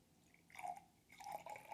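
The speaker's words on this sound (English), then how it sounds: "So I will pour it in" Raki pours into a glass in two faint, short trickles separated by a brief pause, close by and with no talking.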